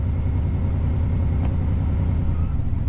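Ford Bronco II with a rebuilt transmission and a swapped-in motor runs steadily up close, a low engine drone holding through a brief shift, with no voices over it.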